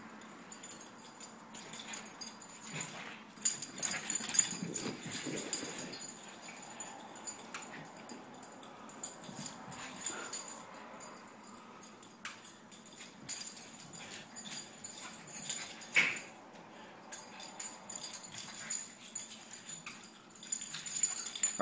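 Quiet, scattered scuffling and jingling with a few soft puppy whimpers, intermittent and close, with no talking.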